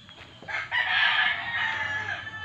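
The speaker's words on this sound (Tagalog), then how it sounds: "yung kanilang manukan dito." A rooster crows loudly and close inside a chicken coop, one long drawn-out call with a few soft clucks from other fowl around it.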